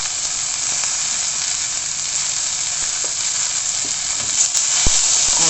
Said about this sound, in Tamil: காய் கொஞ்சம் வதங்கின உடனே தக்காளியை போட்டுக்கோங்க. கொஞ்சம் சால்ட் போட்டு